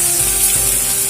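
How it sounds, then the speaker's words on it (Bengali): Ground spices frying in a pan with turmeric, salt and sugar, giving a steady, loud sizzle with faint stirring and no voices. "এবারে সমস্ত মশলা একসঙ্গে ভালো করে"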